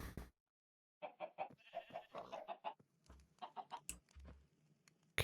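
Chickens clucking in the video game Minecraft, several short bursts of bleating clucks in quick succession, close and clear, with no talking.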